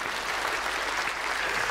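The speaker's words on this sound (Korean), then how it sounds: "이럴 때는 박수가 나와야 돼요" A church congregation applauds inside its sanctuary, producing a dense, steady wash of many hands clapping throughout, moderately loud and even with no break.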